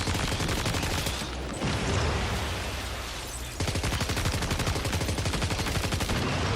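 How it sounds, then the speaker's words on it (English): Dense, rapid bursts of gunfire-like popping and crackling from red enemies exploding in Death Stranding 2, loud and continuous apart from a brief lull in the middle. "Oh god, they super explode now."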